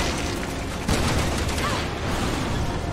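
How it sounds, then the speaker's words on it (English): A shotgun firing in the video game Resident Evil 6, with a sharp loud blast near the one-second mark inside a busy, noisy stretch of game combat and voices. "Oh, that's right. I have a shotgun now."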